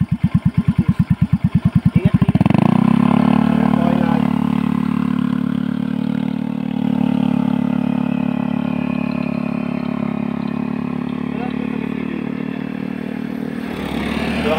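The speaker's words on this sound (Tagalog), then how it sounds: "Ayun naman ng motor ngayon ni Kone." A fuel-injected motorcycle engine revs up from an irregular idle putter and then holds a loud, steady drone nearby, easing back slightly before a small rise at the end.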